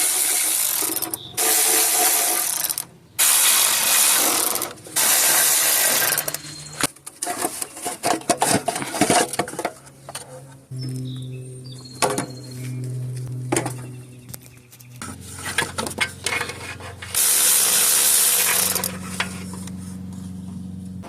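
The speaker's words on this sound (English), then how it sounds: "I'm gonna remove this shield here, the old 12mm bolt" Ratchet working a 12mm bolt off a heat shield on a Toyota Camry 2.4 engine, close bursts of rapid clicking broken by pauses and mechanical clanks, with faint bird chirps behind.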